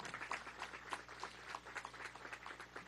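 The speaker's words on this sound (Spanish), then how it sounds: "Un aplauso para este compañero." An audience at a government event hands out applause for an official, with clapping mixed with a murmuring crowd over a few seconds.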